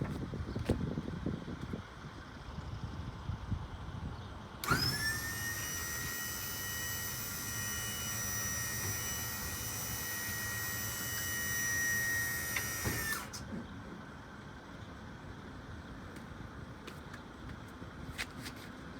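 A slide-out room on a Monaco Signature 45 motorhome extends, its electric motor giving a steady, fairly loud whirring drone with a thin whine for about eight seconds, then stopping abruptly.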